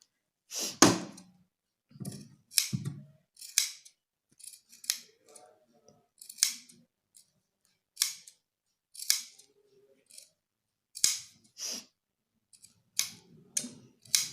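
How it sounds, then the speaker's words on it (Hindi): Scissors snipping small notches into the curved neckline of a long gown's fabric: a series of about fifteen crisp, close cuts at irregular spacing, separated by quiet pauses. "गुलाई की वजह से हम इसमें कट लगाना है। बस धागा नहीं कटना है"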